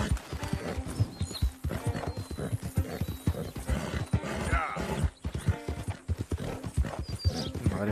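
Horse hooves clip-clop steadily in Red Dead Redemption 2, with occasional neighs and whinnies layered over the rhythmic footfalls, fairly loud and close throughout.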